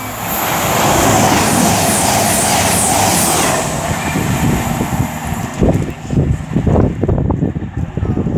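A Super Voyager diesel train passes through Tamworth station, a loud rushing roar that eases off into rattling, clattering wheel and carriage noise near the end.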